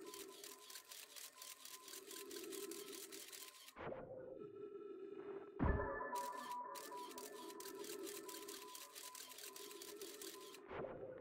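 Outer Wilds scout camera firing rapid repeated shutter clicks in steady runs over a low tonal hum, broken by a brief pause, a thump and a short electronic whine before the clicking resumes.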